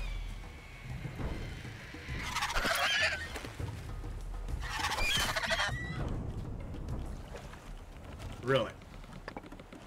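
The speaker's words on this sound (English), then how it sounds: "You had to pull that on me, you dang birds." Birds call in the video game Survival: Fountain of Youth, two loud bursts of honking, squawking cries about two seconds apart, followed by a fainter call near the end.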